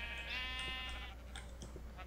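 A sheep in Minecraft bleats in a wavering, drawn-out call, followed by a few fainter short bleats over steady game background noise.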